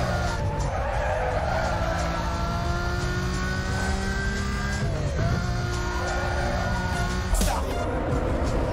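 A car drifts in Need for Speed: Most Wanted, its engine droning steadily while tyres skid and squeal continuously up close, with a couple of brief harder scrapes partway through.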